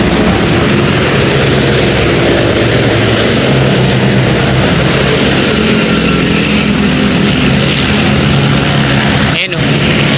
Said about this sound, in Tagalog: ayun may helicopter nga kakalabas lang